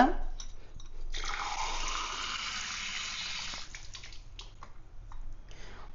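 Water pours into a pot from a tumbler in a steady rush for a few seconds, then trickles and splashes off into quieter handling noises.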